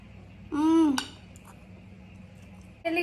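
Cutlery clinks against a plate at a home meal of rice with chicken and sautéed vegetables. Two or three short scraping, clinking touches sound close by over a quiet room, with no talk.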